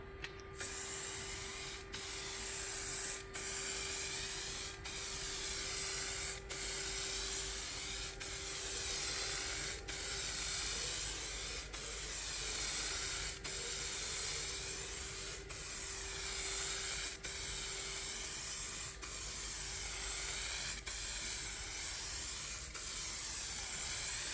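A spray gun hisses out a light coat of paint over a textured car bumper, each loud, steady burst of spray cut by brief pauses at regular intervals of about a second and a half, with no talking.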